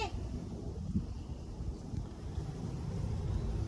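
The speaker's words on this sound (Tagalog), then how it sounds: "Malakas yung hangin kasi." Strong wind at Pak Mong cliff buffeting the microphone, a continuous low roaring rumble throughout with no clear speech.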